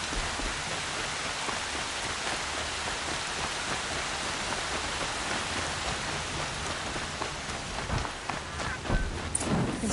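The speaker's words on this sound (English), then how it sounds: "Pressure's lifting. Rain's here." Steady rain falls in Horizon Zero Dawn, a dense, even patter on surfaces that continues throughout with no voices.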